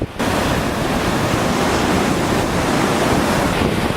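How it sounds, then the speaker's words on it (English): Ocean waves crash on the Beverly Shores shoreline in a loud, continuous roar of surf and wind-blown rumble, close and unbroken, with no voices. "If you can hear me at all, it's incredible over these waves."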